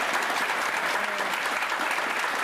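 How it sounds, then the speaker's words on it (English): An audience claps loudly and steadily, a dense, even burst of applause that fills the whole moment without pause. "Got an applause"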